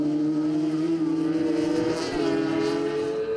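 Race cars roar along tarmac at a circuit, a steady loud engine drone with strong harmonic tones and a brief passing surge midway, no talk.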